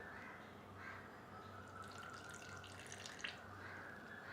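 A small amount of water, about two to three tablespoons, is poured into a pan while butter chicken slider filling cooks, making a soft, steady trickle that stays quiet and close with no talking.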